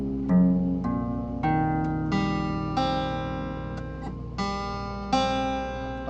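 Guitar strings plucked in a warped-fretboard tuning, a run of ringing notes struck one after another at a steady pace, each sustaining and overlapping the next, close and alone.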